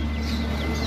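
Chickens clucking at a busy pet and livestock market, a brief dense burst of close fowl calls over crowd noise.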